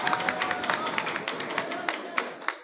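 Applause greeting a speaker at a public event, a scattering of sharp claps with a crowd murmur underneath, close and moderately loud, thinning out toward the end.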